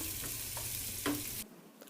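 Chopped onions with asafoetida sizzle in hot tempering oil for brinjal moong dal, a close, even hiss with light stirring taps, then the sound cuts off abruptly to near silence.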